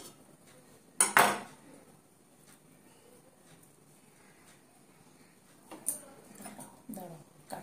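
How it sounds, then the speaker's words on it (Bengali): Knife cutting rice-flour pitha made with Gobindobhog rice and chana dal on a plate, giving a few sharp scraping clinks against the plate with pauses between, while a person talks. "এইবারে ছুরি দিয়ে কাটবো"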